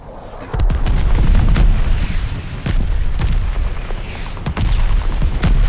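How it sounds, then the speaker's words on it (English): Incoming enemy artillery shells burst in a World War II shooter game, a steady barrage of loud, deep booms and rumbling blasts with sharp cracks layered on top, continuous and close with no pause. "Enemy shells coming in hot."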